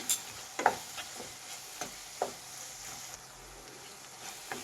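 Tomato rice with garam masala is stirred in a pan, with a few soft spoon scrapes and clinks over a faint low sizzle, quiet and close.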